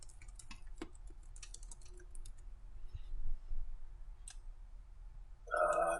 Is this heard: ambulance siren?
no